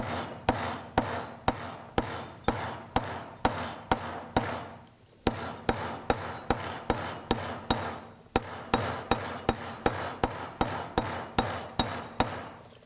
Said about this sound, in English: Hold it in place, being careful not to hammer your fingers, and hammer the leather.